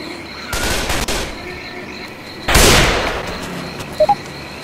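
Two bursts of rapid gunfire in the Left 4 Dead 2 video game, shooting at a mudman in the swamp, the first longer rattling volley and the second louder and closer, followed by two quick small pops.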